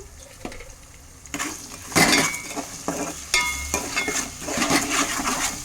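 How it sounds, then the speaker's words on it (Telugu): Onions, ginger-garlic paste and chillies fry in a pan on a home stove. Soft sizzling sits under clattering utensils, with a spoon scraping and stirring and a few sharp metallic clinks. "ఇప్పుడైతే ఇంకా ఉల్లిపాయ ముక్కలు అయితే ఇవన్నీ ఫ్రై అవుతున్నాయి"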